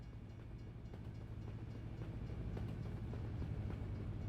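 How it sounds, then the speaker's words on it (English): A train rumbles steadily past a truck at a crossing in American Truck Simulator, a continuous low mechanical roar with faint rhythmic clatter, even and sustained throughout. "Oh, we got a train. We got a train."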